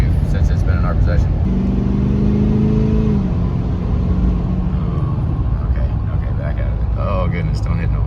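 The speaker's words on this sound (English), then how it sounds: "This is the most I've driven this truck since it's been in our possession." A Ford 6.7 PowerStroke diesel pickup truck cruising on the road, its engine a steady, loud low rumble with a brief rising whine, while people talk over it inside the cab.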